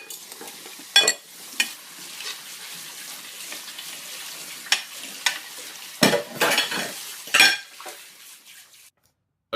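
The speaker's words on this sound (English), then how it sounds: "while you're washing up and breaking plates or like covering yourself in fairy liquid" Dishes being washed up, with plates and cutlery clattering in irregular bursts over running, sloshing water, close by with no talk.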